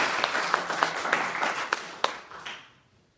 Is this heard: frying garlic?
no